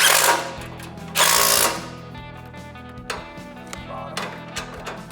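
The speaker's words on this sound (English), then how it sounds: "use the impact driver to tighten the other 4 bolts" Impact driver tightening bolts during assembly of a True Cut mower, with two loud close rattling bursts followed by quieter mechanical clicks and handling noise.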